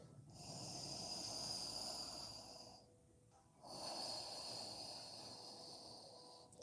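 Slow breaths during a yoga class: a long, airy exhale close to the microphone, then a brief pause before another long breath follows.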